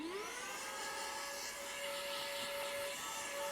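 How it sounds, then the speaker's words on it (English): A small handheld electric blower brush whirs steadily at close range as it clears hair off a tabletop, its thin motor whine rising briefly at the start and then holding a constant pitch throughout. "This is my little blower brush that I got off Amazon."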